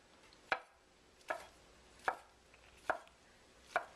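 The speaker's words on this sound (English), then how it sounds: "And then we are going to cut this into very thin strips." Knife slicing a rolled egg omelette into thin strips for Korean jap chae garnish, five crisp, evenly spaced chops against a cutting board, close and quiet with no talking.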